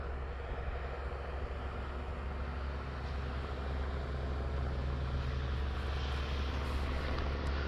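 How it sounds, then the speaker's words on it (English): A Seawind RC model airplane flies at full speed, its small engine giving a steady, continuous drone with a faint whine that holds level throughout, no voices over it. "I'd forgotten just how good this plane flies"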